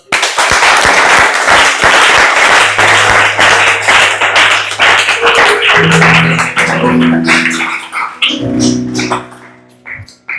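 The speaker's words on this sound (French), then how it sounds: "Est-ce qu'on peut acclamer le Seigneur?" A church congregation breaks into loud, sustained applause and cheering that fills the room, with organ or keyboard chords rising beneath it and voices calling out as the clapping fades near the end.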